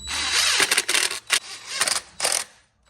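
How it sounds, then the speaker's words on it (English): A hand ratchet clicks in quick bursts while T-bolt clamps are tightened on the intercooler pipe of a 2003–2006 Chevy Silverado 6.6L diesel, several short close-up runs of ratcheting separated by brief pauses. "Tighten up your T-bolt clamps."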